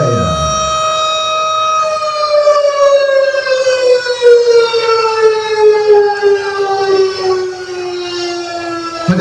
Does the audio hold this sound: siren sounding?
yes